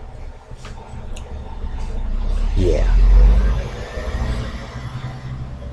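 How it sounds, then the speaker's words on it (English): A truck drives past an open window, a low rumbling swell that builds to a peak around the middle and then fades, heard beneath game sounds and a man's speech. "That was a truck driving past my window."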